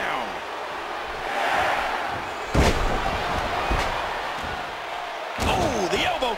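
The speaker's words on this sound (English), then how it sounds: "Oh, slamming spine and neck first into the canvas." Wrestler slammed onto the canvas in a cage match of a wrestling video game, several heavy thuds and bangs ringing out over crowd noise, with a commentator talking.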